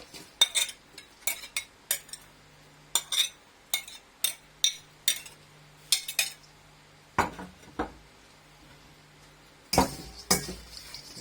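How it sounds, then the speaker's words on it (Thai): A herbal mix of pandan leaves, lemongrass and kaffir lime peel is stirred in a container, giving a string of sharp, irregular clinks and scrapes of a utensil against the vessel, close and clear with no talking. "คนส่วนผสมให้เข้ากันนะครับ"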